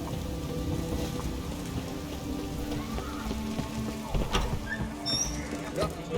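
Steady rain patters across a surface in The Witcher game world, a dense constant hiss filling the scene with faint bird calls and a few brief knocks and footfall-like clops near the end.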